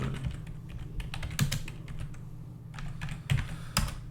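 Someone types a search into a computer keyboard in an irregular burst of crisp, close keystrokes with a few louder taps.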